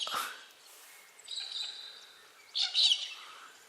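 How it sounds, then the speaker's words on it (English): Small birds chirp in thin, high tweets in the bush, a few scattered calls nearby against an otherwise quiet background. "There's heaps of tiny little birds flying about"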